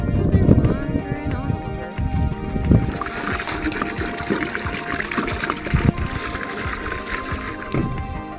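Water gushes and trickles into plastic jugs while hauling water on an off-grid homestead, a continuous splashing pour with shifting gurgles, close by, amid clunks and handling noises.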